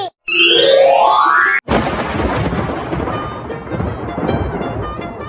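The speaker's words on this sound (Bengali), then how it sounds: "দেখো বাইরে বিদ্যুৎ চমকাচ্ছে আর বৃষ্টি হচ্ছে" A cartoon thunderstorm: a short rising synthetic effect cuts off, then a loud crack of thunder rolls into a steady hiss of rain that continues to the end, with no voices.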